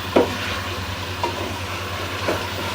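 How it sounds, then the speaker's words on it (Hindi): Chicken for korma fries in a pan with a steady sizzle and a low hum underneath, broken by a few soft clinks of stirring. "तो व्यूअर्स, चिकन हमारी फ्राई हो रही है।"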